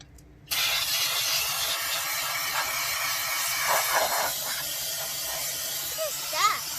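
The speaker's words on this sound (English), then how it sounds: "This is brake cleaner to get all the gunky, yucky, ooey stuff out of here." Brake cleaner sprays in a steady, loud hiss onto the drum brakes of a 1980 Jeep CJ7, starting abruptly after a short pause and running continuously, with a voice briefly audible near the end.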